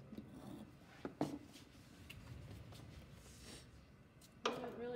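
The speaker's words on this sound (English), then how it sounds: "So now I want to file the end that I just snipped" A metal file rasps against the snipped end of a rivet on a metal piece, a couple of short scraping strokes with a sharper burst near the end, close and fairly quiet, no talking.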